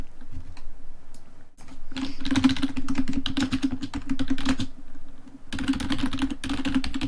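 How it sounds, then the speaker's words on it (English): Rapid clattering keystrokes on a computer keyboard in bursts with a brief pause, close and fairly loud, accompanied by a steady low hum in the background. "Let me try typing help."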